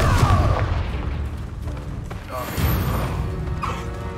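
Confringo fire spell explosions in the video game Hogwarts Legacy, heavy booming blasts with crashing debris and mechanical creaks, mixed with other combat effects, while a voice speaks in the middle.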